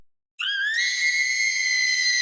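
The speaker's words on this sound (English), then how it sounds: "The screams of Nami, Keiko, and Kumi echo through the hospital as they desperately run away from it." Shrill, sustained screams from girls fleeing through a hospital, rising sharply after a brief silence and holding loud and piercing, with a thin whistle-like tone.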